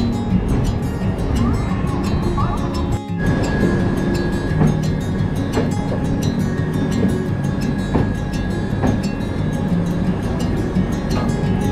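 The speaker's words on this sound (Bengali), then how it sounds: "বোলপুর থেকে দার্জিলিং মেল ছেড়ে দিল" Darjeeling Mail train pulling out of Bolpur station at night, a loud continuous rumble of wheels and carriages with periodic rail clanks, heard from on board.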